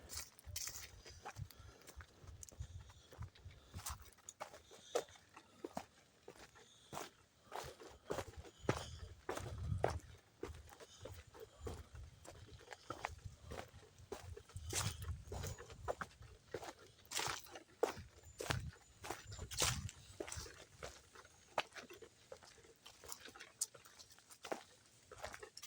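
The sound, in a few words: footsteps walking down a lakeshore trail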